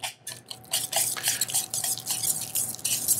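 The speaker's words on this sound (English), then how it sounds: "what happens if we just slowly start to whisk this?" A whisk is drawn slowly through a firm fruit purée gel in a bowl, giving soft, wet, irregular strokes with light clicks of the whisk against the bowl, close and fairly quiet.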